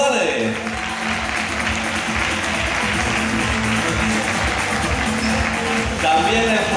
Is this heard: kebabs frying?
no